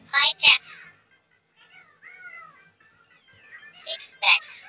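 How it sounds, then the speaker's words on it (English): Cats meow in short, sharp bursts, a quick pair at the start and a cluster of three or four near the end, with quiet tones in the gap between. "Five cats."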